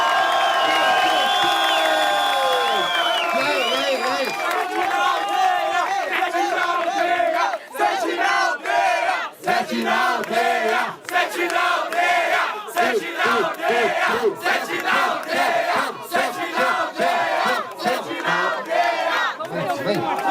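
A large crowd at a Brazilian MC rap battle final in Brasilândia cheers and shouts loudly, with whoops and rhythmic yelling surging in bursts, near and energetic throughout.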